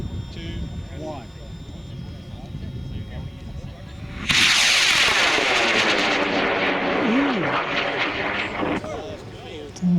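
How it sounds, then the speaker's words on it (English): A Penetrator model rocket launches on a J415 motor, a sudden loud broadband roar bursting in midway and sustained for several seconds before cutting off, preceded by outdoor crowd voices and wind. "we got Tom Benford flying his Penetrator on a J415"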